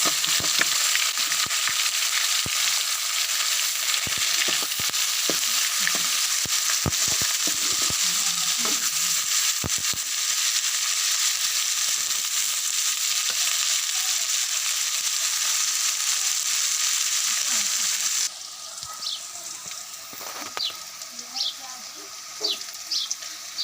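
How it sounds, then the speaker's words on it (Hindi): Onions and garlic frying in hot oil left over from cooking okra, a loud continuous sizzle with occasional stirring scrapes and knocks; the sizzle drops noticeably toward the end. "अब हम इसी ऑयल में हम अब डालेंगे प्याज"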